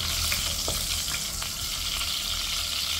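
Garlic sizzling and frying steadily in hot olive oil in a home pan, a continuous close crackle with small pops and a faint stir now and then, no voices.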